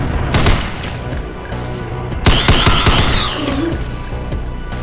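Rifle gunshots in the video game Ashes 2063: loud, close rapid shots in two volleys, with sharp cracks and echoing tails over a background of game music.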